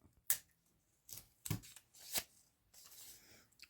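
Masking tape being pulled off the roll and handled while building a 1/6 scale dolls house sauna: several short, sharp ripping and crackling bursts, close and fairly quiet, separated by brief pauses.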